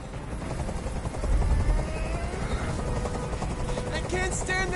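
A helicopter drones steadily overhead in the game Detroit: Become Human, its rotor chop thrumming continuously while a voice speaks over it.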